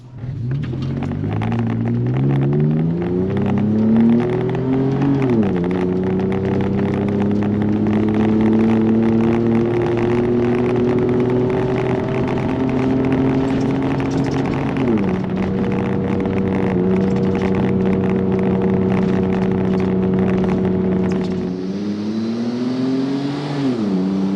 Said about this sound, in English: we're just going to put our foot down and take off up the hill up here